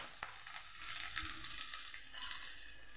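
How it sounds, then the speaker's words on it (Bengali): Bay leaf, slit green chilli, chopped ginger and cumin seeds frying in oil in a kadai for dal tempering, a soft continuous sizzle with light crackle, fairly quiet and without voices. "এটাকে আমি লাল করে ভেজে নিই।"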